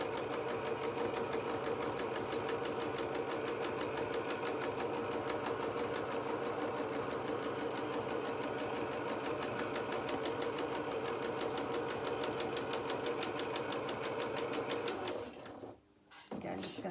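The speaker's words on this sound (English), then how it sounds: "You can hear the machine just starting to struggle slightly." A sewing machine rapidly stitches a felt doll coat in a loud, continuous mechanical chatter, its rhythm steady for most of the run before slowing and cutting off near the end.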